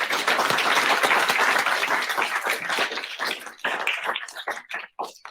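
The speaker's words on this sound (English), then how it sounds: "let's give all of our awardees one last big round of applause" Audience applause at an awards ceremony: dense, loud clapping from a crowd for several seconds, then thinning out into scattered individual claps that trail away near the end.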